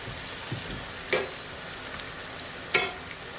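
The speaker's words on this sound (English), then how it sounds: "we're letting the tortillas get cooked a little bit and get a little bit soft. We're not going to fry them to crunchy." Tortillas for migas fry in a pan with a steady soft sizzle, broken by two brief sharp clatters of stirring or pan contact, close by and with no talking.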